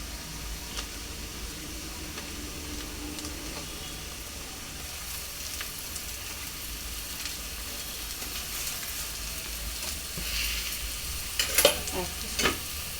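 Pieces of korameenu fish (murrel) fry in a pan for a Godavari-style curry, giving off a quiet, continuous sizzle while being stirred, with a few scraping utensil knocks near the end; no talking.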